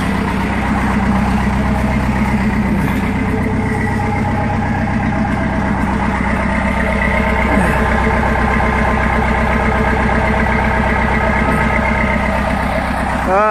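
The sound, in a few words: Cummins 4BT diesel engine cold start and idling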